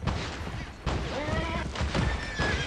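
A horse in the Western video game Gun whinnies in two or three rising, wavering calls over busy game noise, fairly close and loud.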